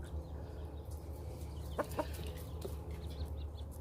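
Chickens clucking quietly in a backyard flock, a few short clucks near the middle over a steady low hum, faint and fairly distant.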